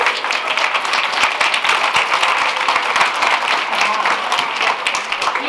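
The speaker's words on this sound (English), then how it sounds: "A round of applause," Steady applause from an audience for debaters at a debate orientation, dense continuous clapping filling the room without pause, moderately loud throughout.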